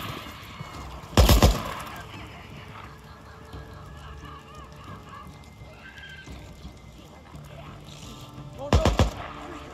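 Two loud, sharp gunshots from the video game Days Gone, one near the start and another near the end, separated by quieter in-game ambience.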